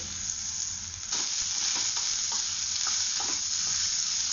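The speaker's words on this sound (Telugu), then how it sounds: "వీటిని బాగా ఫ్రై చేసుకోవాలి" Onion pieces and salt frying in a pan with a steady, bright sizzle, broken by a few sharp scraping stirs of a spoon against the pan partway through; no voices, close and fairly loud.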